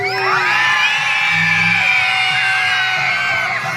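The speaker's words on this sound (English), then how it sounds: "Everybody scream!" A big crowd at a BMX stunt show screams and cheers loudly and continuously, with whoops and yells blending into a steady roar.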